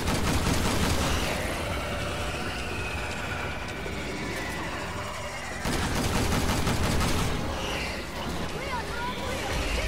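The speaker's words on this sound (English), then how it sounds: "This pump shotgun is actually a full auto shotgun." Full-auto pump shotgun from Resident Evil 6 blasting in a loud, dense run of rapid shots, with a brief lull midway before another burst, layered over busy game noise and talk.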